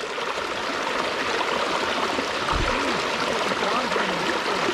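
A cold outdoor stream flows and trickles at a wild camping spot, a steady close rush of water with no talking.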